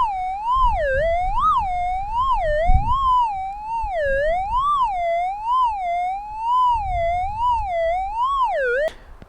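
A metal detector's target tone heard through headphones while hunting for gold between two hydraulic pits: a steady, loud electronic tone that wavers up and down in pitch for about nine seconds, with faint low rumbles underneath, cutting off abruptly at the end.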